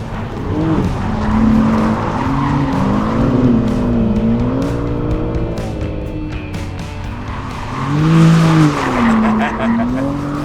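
BMW M3 sliding with tires squealing in wavering, wailing tones over the engine drone, fading midway and surging again near the end, with a voice talking over it.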